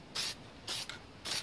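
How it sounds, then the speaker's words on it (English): Spray adhesive hisses from a can onto an insulation panel for a Mitsubishi Sigma, three short close bursts with brief pauses between them. "Spray adhesive on the back of that, and on the insulation panel"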